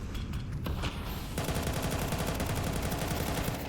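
Galil rifle fire in a Counter-Strike match, heard as rapid sustained automatic bursts that are loud and dense throughout, with overlapping game noise and no voices.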